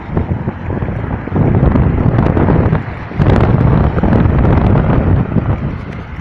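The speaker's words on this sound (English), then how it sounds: "So it's probably a little bit loud in the wind" Loud, continuous wind buffeting a microphone on a bicycle riding up a hill on the way to a shopping center, a broad roaring rumble that swells in gusts and never lets up.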